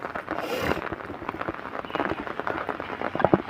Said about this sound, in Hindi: बारिश अपनी पूरी आबोताब से लगी हुई है